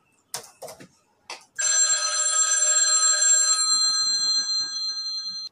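A telephone bell rings loudly and steadily for several seconds after a few brief clicks, near and alone, as a radio show host places a call to a listener.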